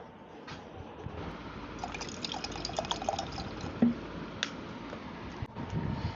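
Water trickles and splashes as it is poured, with small drips and clinks over a low background hiss, fairly close.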